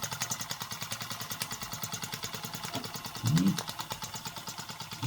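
A model steam engine kit, the Rocking Whale, runs with a quick, even chuffing beat, quiet and close, with a short louder bump partway through and no talk.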